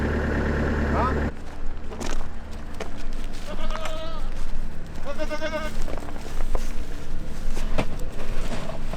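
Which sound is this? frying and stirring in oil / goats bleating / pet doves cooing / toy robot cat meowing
goats bleating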